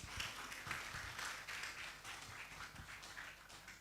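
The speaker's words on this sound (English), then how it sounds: "please give a big round of applause" Audience applause at an international symposium on documents, records and archives, a dense wash of many hands clapping at steady strength throughout, heard from within the hall.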